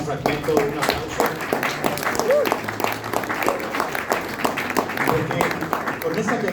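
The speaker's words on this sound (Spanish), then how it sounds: "un aplauso" Audience applause after a live band plays a song at a tribute to a band at the Fonoteca Nacional: steady, crisp clapping from many hands throughout, with a voice talking over it.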